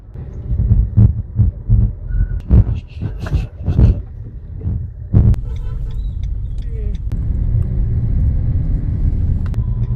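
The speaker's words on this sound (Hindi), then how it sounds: "फाड़ती हुई निकलती जा रही है गाड़ी" A Maruti Suzuki Brezza diesel car accelerates along a road, its low engine rumble droning steadily throughout, with voices talking over the first half before the hum settles into an even, sustained roar.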